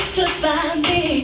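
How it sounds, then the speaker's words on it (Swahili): Wedding guests clapping in a loud, close burst, mixed with high voices that may be ululation, continuing for just over a second. "Makofi mengi na vigelegele kwa kaka"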